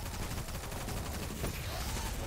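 Auto rifle gunfire in the video game Destiny 2, during a Legend Lost Sector, comes as a faint, dense, rapid stream of shots under a steady noisy wash.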